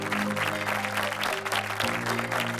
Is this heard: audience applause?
yes